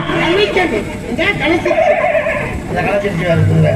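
A person imitates a horse's whinny at a Tamil village stage drama, a wavering, pitched neigh voiced up close amid other voices and chatter.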